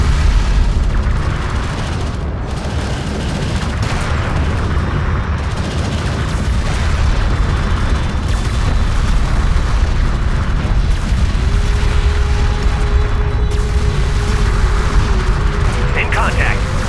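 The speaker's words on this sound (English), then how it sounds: "One of our turrets is taking fire." Turret under attack in the real-time strategy game Homeworld: Deserts of Kharak, with continuous heavy booms and gunfire rumbling loudly throughout, overlaid by battlefield radio voices speaking.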